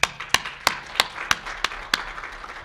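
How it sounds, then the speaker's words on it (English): A small group applauds participants at a New American Leadership Academy ceremony, sounding as a few sharp, evenly spaced claps in a slow rhythm over a faint background. "Can we give them a round of applause?"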